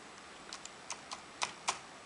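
Quiet, sparse clicks from typing on a small keyboard for an iPhone, about five separate taps over low background hiss, with no voice.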